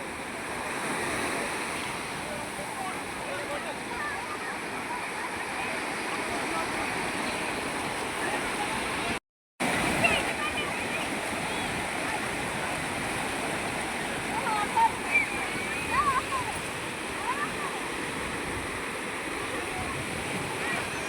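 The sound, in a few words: sea waves at beach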